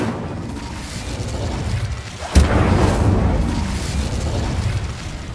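A fire spell is cast in the Hogwarts Legacy video game, a sudden whooshing burst followed by a sustained roaring blaze that slowly fades, loud and close.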